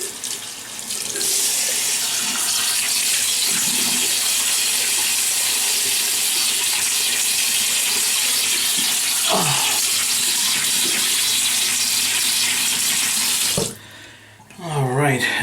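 A tap runs steadily into a sink while a man wets his face to shave about a week of stubble, a continuous close rush of water that stops abruptly near the end, followed by a few splashes.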